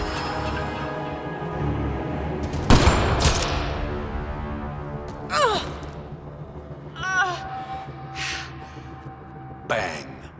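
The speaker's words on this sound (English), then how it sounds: "Sniper, his sights are set on Sloane" A single sharp sniper gunshot in the Mass Effect Andromeda video game cracks out loudly and is followed by a rumbling tail, with voices heard over a steady background score.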